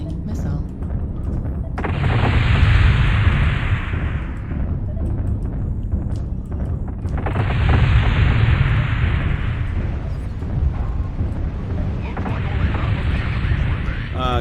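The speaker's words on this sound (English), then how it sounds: "Warning, incoming missile." Incoming missile explosions in MechWarrior Online, two or three long roaring blasts with rumbling low end that swell and fade, separated by quieter stretches of mech combat noise.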